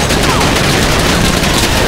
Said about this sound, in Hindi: इन्होंने मुझे देखते ही गोलियां चलानी स्टार्ट कर दी